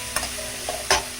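Green chili, garlic and ginger paste frying in oil with a steady sizzle, punctuated by a few brief stirring scrapes in the pan.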